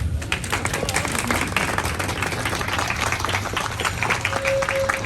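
Sustained audience applause at a memorial ceremony, steady warm clapping from a crowd throughout, with a faint tone entering near the end.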